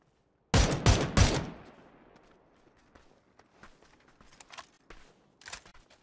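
Loud unsuppressed gunfire in PUBG, with a quick burst of a few sharp shots followed by a fading tail, then scattered fainter distant shots and footsteps.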